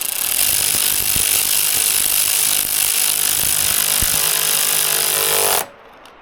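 A bolt on a Yamaha TW200 motorcycle is snugged down with a power tool, giving a loud, steady whirring drone for about five and a half seconds with a few sharp knocks, then cutting off abruptly into near silence.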